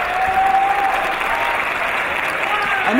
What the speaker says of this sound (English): this crowd here at the Sheffield Arena for 5 Star Wrestling showing their appreciation